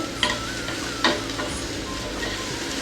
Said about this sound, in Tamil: இது மாதிரி நம்ம திருப்பி திருப்பி போட்டுக்கலாம் எல்லா இடத்துலையும் எண்ணெய் படுற மாதிரி